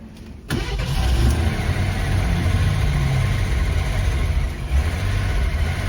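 An SX/4 car engine with leaking carburetor fuel lines catches after a short start, then idles with a steady, rough rumble close by for several seconds.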